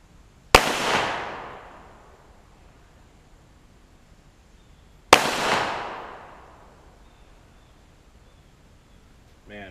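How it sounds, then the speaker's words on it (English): .45 caliber handgun fired outdoors in a backyard at a can target, two sharp loud reports about four and a half seconds apart, each trailing off in a long echoing decay. "I'm determined to hit that can with a 45 caliber round now."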